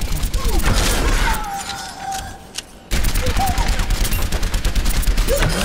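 Rapid weapon fire at training bots in Overwatch, dense bursts of shots with a brief lull in the middle, then more firing; a voice speaks over the shooting.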